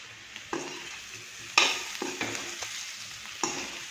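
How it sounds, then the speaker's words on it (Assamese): Pork pieces fry over raised heat in a pan, a continuous close sizzle punctuated by several distinct scraping stirs of the spatula spaced a second or so apart, with no talking. "মোটামুটিকৈ 5ৰ পৰা 10 মিনিটমান ভালকৈ ভাজিলে বেছি ভাল হয়।"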